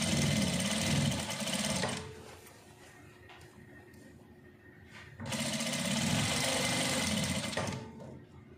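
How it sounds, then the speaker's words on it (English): Sewing machine stitching the collar of a V-neck danshiki dress, two loud steady runs of rapid needle chatter separated by a quieter pause with faint handling sounds. "I'm just going to start sewing"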